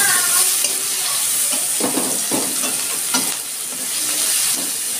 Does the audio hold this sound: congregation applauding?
no